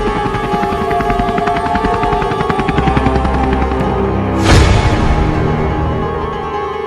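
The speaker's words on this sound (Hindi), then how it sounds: "वो पुलिस के पास हेलीकॉप्टर है, वही लाएंगे।" A police helicopter sound effect in a comedy sketch, with steady loud rotor chop throughout and a brief whooshing swell near the end, no speech.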